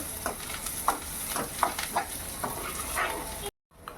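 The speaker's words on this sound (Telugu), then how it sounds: "దీంట్లో ఇప్పుడు ఒక బిర్యానీ ఆకు వేసి ఇంకొకసారి కలిపేయాలి" A pan of mushroom curry with a bay leaf is stirred with a utensil, giving soft repeated scraping strokes over a low sizzle from the pan; a brief dropout near the end.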